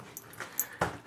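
A dog whimpers and yips in short, faint bursts at close range, with a few quick high squeaks and no speech.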